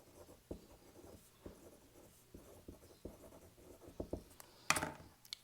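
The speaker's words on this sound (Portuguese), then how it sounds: "vamos escrever isso que eu falei então" Someone writes on a board in a classroom: quiet, irregular taps and short scratchy strokes spaced through the clip, ending with a sharper scrape, with no talking.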